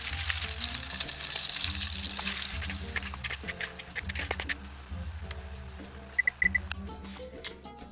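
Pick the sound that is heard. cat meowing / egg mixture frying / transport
egg mixture frying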